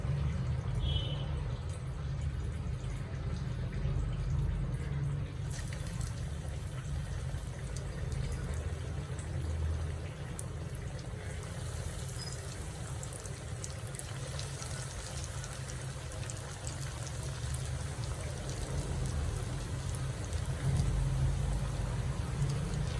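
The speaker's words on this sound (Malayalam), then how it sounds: "എണ്ണ ചൂടാക്കാൻ വെച്ചിട്ടുണ്ട് ലോ ഫ്ലെയിമിലാക്കി കൊടുക്കാം എന്നിട്ട് ഓരോന്നായിട്ട് ഇട്ട് കൊടുക്കാം" Chicken vada pieces frying one at a time in hot oil over a low flame give a steady, close, continuous sizzle and bubble throughout, with no one speaking.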